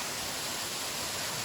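Juney Whank Falls on a Great Smoky Mountains trail, a steady broad rushing roar of falling water, close and constant with no voices.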